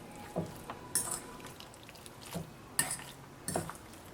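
Spoon scraping and stirring freshly ground garam masala and spices in a pan for Kerala chicken roast, a few sharp clinks against the metal at irregular intervals over a quiet background.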